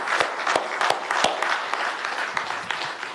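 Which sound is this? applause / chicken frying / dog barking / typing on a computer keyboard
applause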